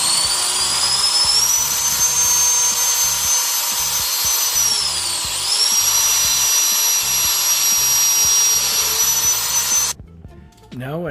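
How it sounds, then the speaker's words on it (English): A power drill whines steadily and loudly while boring through the wooden frame of a bicycle camper, dipping briefly in pitch midway before stopping near the end. "I'm going to drill it right through the frame at about 1/2 inch from the end and as straight as I can."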